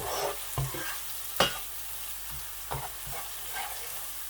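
Garlic and cumin fry in hot oil with a soft, steady sizzle. Quiet scrapes and taps of stirring break through it every so often.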